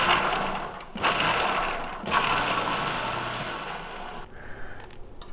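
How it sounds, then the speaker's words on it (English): Half a can of black beans being coarsely ground for a mushroom walnut burger patty: a near, whirring motor grind in several bursts separated by brief pauses, with a higher whine near the end. "I'm gonna take a half a can of black beans and grind it up a bit"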